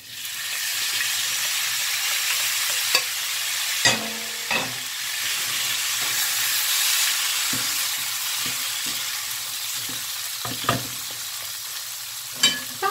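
Pork and yellow rice frying in a skillet: a bright, steady sizzle runs throughout, punctuated by occasional clacks and scrapes of a spoon stirring against the pan.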